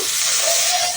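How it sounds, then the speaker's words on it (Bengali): A little oil heating in a hot wok gives off a steady, close, bright sizzle that holds evenly for about a second, with no voices. "গরম কড়াইতে একটু তেল দেব, সামান্য একটু তেল দিলাম"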